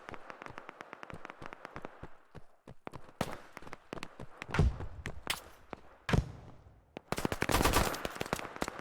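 Gunfire in the military shooter Operation: Harsh Doorstop: a rapid string of sharp single shots, then heavier bursts and louder crackling volleys toward the end, with distant battlefield noise between.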